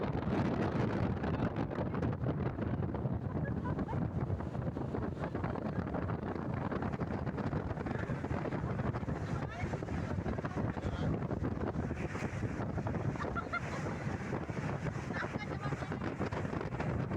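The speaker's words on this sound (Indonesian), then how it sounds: "angin lautnya seperti apa, kencengnya seperti apa" Strong sea wind buffets a small boat crossing to Pulau Lima near Serang, a steady roaring rush with microphone wind noise throughout, loud and close, with faint voices and engine-like rumble beneath.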